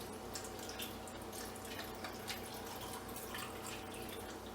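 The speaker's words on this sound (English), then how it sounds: "So I'm going to take my jar and just top it with brine." Brine for watermelon rind pickles pours into a fermenting jar in a continuous close splashing trickle that stays fairly steady throughout, with no talk.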